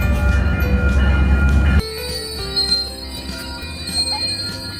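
Metrolink commuter train at a station, heard as a loud low rumble that suddenly drops away, leaving quieter rail clatter with bell-like ringing tones in the background.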